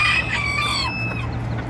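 Bantam hens give short clucks and a brief crowing-like call, close and fairly loud, fading into a soft farmyard background.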